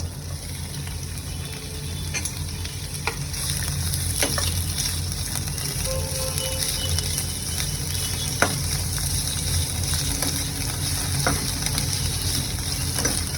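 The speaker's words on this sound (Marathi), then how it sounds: "आता ह्यात मी आपली जी तोंडली आहे मी चिरून घेतली उभी ती घालून घेते आणि तेलामध्ये चांगली फ्राय करून घेते" Sliced ivy gourd (tendli) fries in oil in a kadhai over medium-low heat, a dense steady sizzle running throughout with occasional faint taps and scrapes of a stirring spoon, no voices.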